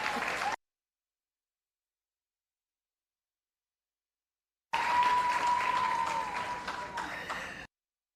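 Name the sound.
audience applause at an awards ceremony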